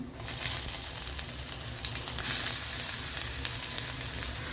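Ginger dropped into hot oil for a spicy wheat-flour paniyaram batter sizzles steadily and close, a dense continuous frying hiss that swells louder about halfway through, with no voices.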